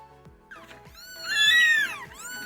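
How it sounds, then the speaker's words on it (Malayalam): Hungry kittens mew in thin, high-pitched cries, a few short calls rising into one longer, wavering wail, fairly close with a faint background hum. "നമ്മളെ പൂച്ചക്കുട്ടികളൊക്കെ നന്നായി കരയണുണ്ട് കേട്ടോ വിശന്നിട്ട്"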